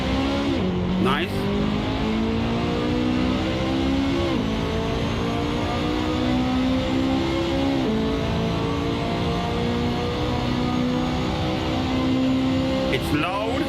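Loud, continuous engine roar from a McLaren P1 GTR track car in the Assetto Corsa racing game, revving up and down through gear changes with brief tire squeal, steady and close throughout the run.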